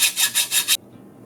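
A hand saw rasps through a BMX handlebar held in a Park Tool saw guide, five quick rhythmic strokes close up, then it stops abruptly into near silence.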